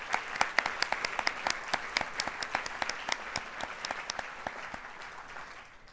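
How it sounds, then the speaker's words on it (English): A modest audience claps at a distinguished alumni awards ceremony, with individual sharp hand claps standing out clearly over a thinner background, gradually tapering off. "And now, let us clap."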